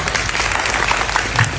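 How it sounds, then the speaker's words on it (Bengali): An indoor audience at a speaking event breaks into brief, steady applause, a dense patter of clapping hands with no voices over it. "তার জন্য তুর্য নাসির ভাইয়ের জন্য আমি চাই এবার সত্যি একটা জোরে করতালি।"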